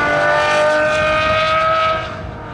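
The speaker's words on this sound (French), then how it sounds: "Oh, comme c'est aigu le V12." An Aston Martin Valkyrie's V12 screams at high revs on a race circuit, a loud sustained shrill wail that holds steady, then drops off in level near the end as it pulls away.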